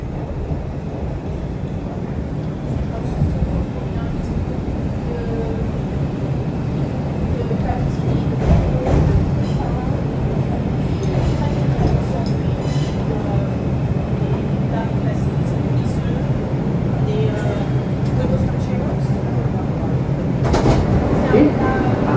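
Rumbling ride aboard an R142 IRT subway train on the 2 line in Brooklyn, a steady loud low roar of wheels and motors throughout, with brief voices and a sharper clatter near the end.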